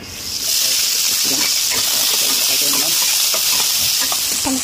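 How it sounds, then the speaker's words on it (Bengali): Cumin, bay leaves, capsicum and tomato fry in hot oil, starting with a sudden loud hiss and settling into a steady, close sizzle with light stirring clicks throughout. "আমি প্রথমে একটু জিরা দিয়ে দিলাম, দুটো তেজপাতা, তারপরে ক্যাপসিকাম, টমেটো আছে, এটা ফ্রাই।"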